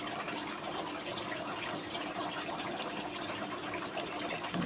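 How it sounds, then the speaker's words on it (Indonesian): Water gushes steadily and heavily over live crabs, a continuous close splashing pour with no voices. "Setelah pelan baru kita guyur agak deras."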